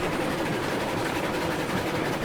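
Steady rumble of a train rolling into a freight depot in Railroads Online, with a broad, even roar and a faint rhythmic clatter, constant and close with no voices.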